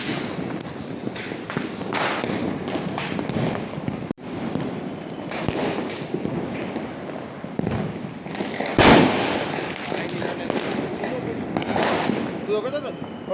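Fireworks and firecrackers burst outdoors in repeated cracks and thuds, with one especially loud bang near the middle, amid background chatter and movement.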